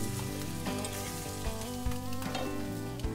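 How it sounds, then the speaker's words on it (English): Fish fillets of bass sizzling in browned butter in a pan, a dense steady crackle and hiss up close, with a few louder pops and no talking. "Our butter's turning brown. Let's get our fillets in there."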